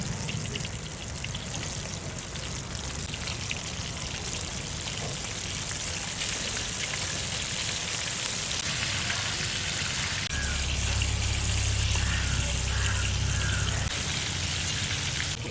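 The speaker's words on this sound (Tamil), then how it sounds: "இதே மிதமான சூட்டில் 7லேருந்து 8 நிமிஷம் வரைக்கும் நல்லா ஃப்ரை பண்ணி எடுத்துக்கலாம்" Chicken drumsticks deep-frying in hot oil over a medium flame, KFC-style: a dense, steady crackling sizzle runs throughout with no talk and swells slightly louder toward the end.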